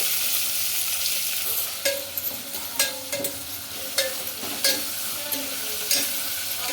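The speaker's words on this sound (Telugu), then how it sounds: "కూరగాయ ముక్కలు ఇప్పుడు ఒక రెండు నిమిషాలు మగ్గించుకున్నామండి లో ఫ్లేమ్లో" Vegetable pieces sautéing in a pan on a low flame, a steady soft sizzle broken by repeated sharp scraping stirs at irregular intervals.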